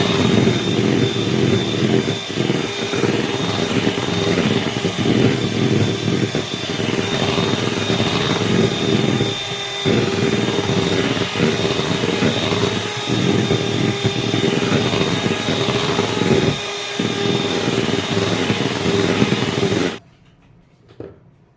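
An electric mixer beats cake batter for a cotton-soft bakery-style cake, giving a loud steady motor whir with brief dips where the beaters shift, then cuts off abruptly near the end; no voices.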